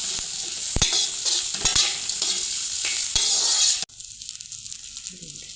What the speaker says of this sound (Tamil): பிரண்டையும் ஒன்றா சேர்த்து கொட்டி நல்லா கிண்டிக்க வேண்டியதுதான்.